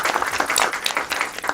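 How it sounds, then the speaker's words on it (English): A short burst of applause from seminar attendees, dense clapping from a room of people at fairly close range. "we can give a round of applause."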